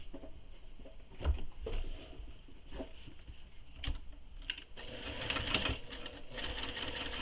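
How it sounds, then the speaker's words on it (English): Sewing machine topstitching both sides of pressed-open seams on a convertible tote bag, a faint, quiet run of stitching with uneven bursts and handling clicks, growing busier toward the end. "Now I'm going to top stitch on both sides of the seams."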